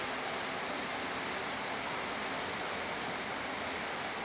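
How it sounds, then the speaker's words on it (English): Hot water poured steadily into a Beef and Tomato Pot Noodle pot, a continuous broadband rushing splash that stays even and fairly close throughout, with no voices. "add hot water"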